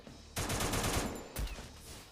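Gunfire from the Free Fire battle royale game: a dense, loud burst of rapid automatic shots for about a second, then a heavy blast and a fading tail, with no talking.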